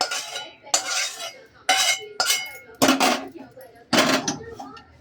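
Metal kadhai set down on a home kitchen stove while preparing a matki (moth bean) dish, a series of sharp clanking knocks and clatters of cookware, close and fairly loud, spaced about a second apart.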